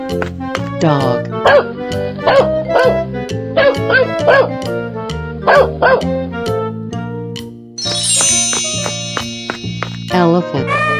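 Short yipping barks from a dog in a 3D animal slide game repeat in quick bursts over bright, looping game music, with a narrator's voice mixed in.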